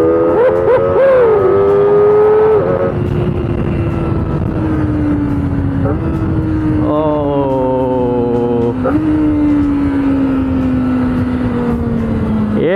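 A Kawasaki ZX25R motorcycle's high-revving inline engine wails loud and close, pitch climbing through several rising pulls with gear-change dips and steps, continuous throughout with no talk.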